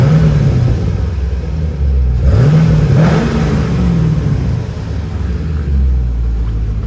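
A 2014 Chevrolet Camaro 2SS 1LE V8 idles nearby with a deep, loud rumble that swells in a couple of light revs before settling back to a steady idle.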